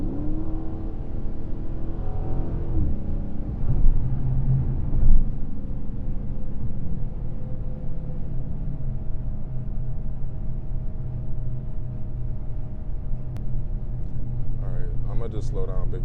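A Dodge Scat Pack's engine rumbles steadily at low speed in traffic, a close, deep drone with a brief throttle swell early on, heard from inside the car with a faint voice near the end.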